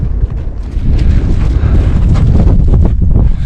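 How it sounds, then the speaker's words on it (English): Strong gusting wind buffets the microphone on an Alaskan mountain ridge high above an inlet, a steady loud roar with rumbling low-end bursts and no voices. "You can probably hear the wind whipping"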